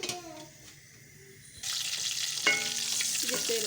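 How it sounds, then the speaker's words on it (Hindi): Potatoes drop into oil already used for frying eggs, and a loud, close sizzle rises suddenly and then holds steady, with a few clinks of utensils. "जिस तेल ऑयल में मैंने अंडे फ्राई किए थे उसी में मैं आलू डाल के फ्राई कर लूँगी।"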